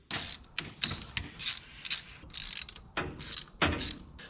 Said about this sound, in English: We're gonna loosen the ones that are loose.